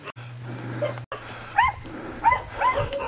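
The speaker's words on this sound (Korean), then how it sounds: "웬 강아지 짖는 소리가" A small dog barks repeatedly from behind a stone wall along the Bireong-gil coastal trail on Geumodo island, three or four short yelping barks at moderate distance over outdoor background noise.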